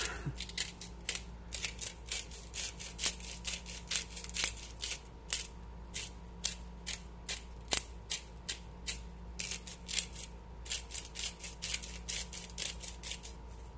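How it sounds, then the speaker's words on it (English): A hand-cranked salt grinder working the last of its salt while chowder is made, giving a steady run of short, crisp crunching clicks, close and fairly quiet, with no talking. "Oof, I am out of salt. We'll just grind this until it's nothing."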